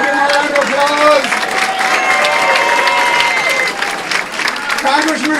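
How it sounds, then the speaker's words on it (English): Crowd applauding and cheering for New York City mayor Bill de Blasio at a Democratic political gathering, dense sustained clapping from a large room with shouts and a voice talking over it. "Bill de Blasio, give him a round of applause."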